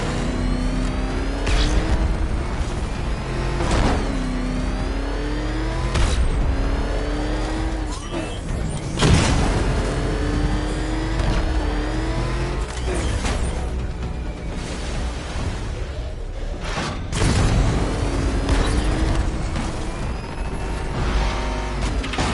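The Batmobile's engine from Batman: Arkham Knight drives hard, roaring and revving through rising and falling gear shifts, with tire noise and sharp impacts breaking through, loud and close for the whole stretch.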